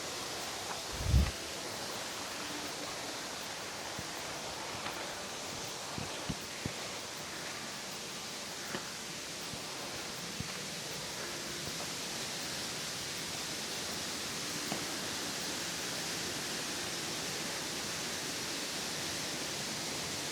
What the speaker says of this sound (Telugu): చూడొచ్చు నీళ్ళు ఏ విధంగా పడుతున్నాయో.